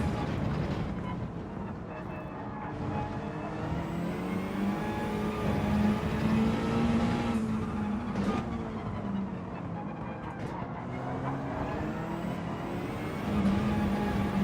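A Mazda Gr.4 race car engine in Gran Turismo 7 at Fuji: a continuous, steady engine drone with gently rising and falling pitch through the whole stretch.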